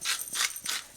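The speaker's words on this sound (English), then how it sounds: "Some cracked black pepper." A pepper mill grinds cracked black pepper over a pan of green beans in three quick crunchy ratcheting twists, close and crisp, with no talking.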